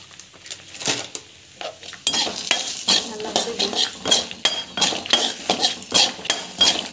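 Cumin and fenugreek seeds sautéing in a pan: quiet metallic scraping and clinks of a spoon give way to a louder close sizzle with repeated stirring strokes and utensil clatter, no talking.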